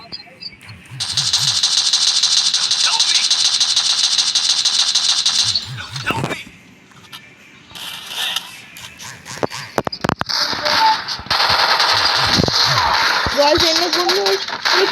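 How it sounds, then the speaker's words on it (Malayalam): Gunfire from the Free Fire video game, rapid bursts and sustained rattling firing sequences alternating with gaps, loud and close throughout. "ഓ ഗൈസ്, എന്നെ വെടിവെക്കാൻ വേണ്ടി ഒരുത്തൻ നിൽപ്പുണ്ട് കേട്ടോ"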